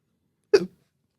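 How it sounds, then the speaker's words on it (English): A single sharp hiccup from a person, brief and close, with silence before and after. "I just had a hiccup."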